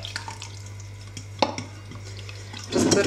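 A spoon scrapes and clinks while mixing strained food in a bowl for stuffed peppers with minced meat and rice, soft wet stirring with a few light taps, then a louder scraping burst at the end.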